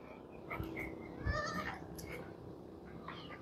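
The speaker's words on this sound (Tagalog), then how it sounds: "Nakaabang na po yung ating mga kambing." Several waiting goats bleat in short, repeated calls at close to moderate range, with a steady farmyard background and no talking.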